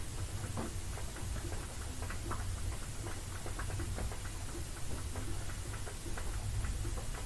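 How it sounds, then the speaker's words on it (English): Rain pattering steadily, a dense, even hiss of drops with faint scattered ticks throughout, no voices or other sounds standing out. "Okay, that's just the rain."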